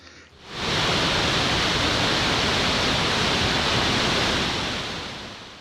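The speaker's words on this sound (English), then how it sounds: "This is Makshon Falls, the most powerful waterfalls in the world." Murchison Falls on the River Nile, a very powerful waterfall, roars as a dense, steady, broadband rush of water that swells in after a moment, holds loud and constant, then slowly fades.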